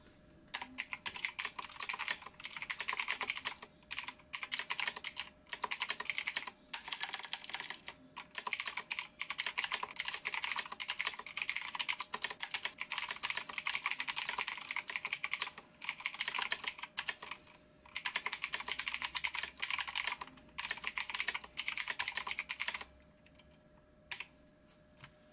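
Fast, steady typing on a Razer BlackWidow X Chroma mechanical gaming keyboard, close and crisp, with dense clicky keystrokes running almost continuously before stopping near the end.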